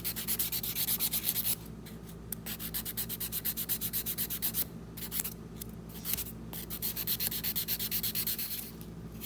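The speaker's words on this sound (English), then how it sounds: "make sure you sand down your natural nails so that everything's even" A nail file sands down natural fingernails in quick rhythmic scratchy strokes, close up and in bursts with brief pauses between passes, and no one speaks.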